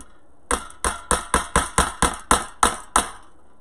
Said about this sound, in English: I'm going to hammer it in because I don't have the best hand strength